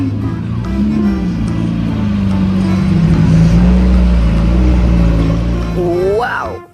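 A toy racing car gives a loud, wavering engine-like drone with shifting pitch that ends in a short rising squeal.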